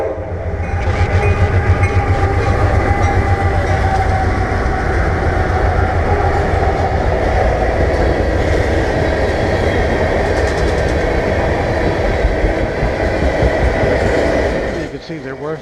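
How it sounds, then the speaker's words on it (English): Three CSX and Canadian Pacific locomotives hauling a freight train at Summerfield, Florida, pass nearby with a loud sustained rumble, engine drone and rolling wheel clatter that fades near the end. "You can see there were 3 locomotives on this train."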